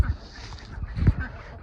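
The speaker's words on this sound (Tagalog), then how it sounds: "Ito ang ating mga pato." Ducks quack and honk in short bursts, close by, with a faint murmur of background noise between calls.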